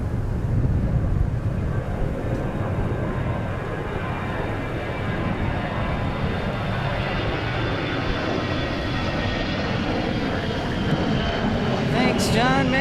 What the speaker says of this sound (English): We got a departure. Here we go.